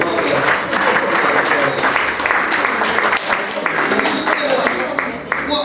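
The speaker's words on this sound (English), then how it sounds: "Give these guys a round of applause" A dinner audience at an annual dinner gives a round of applause, dense sustained clapping from a large crowd at fairly loud level, with voices mixed underneath.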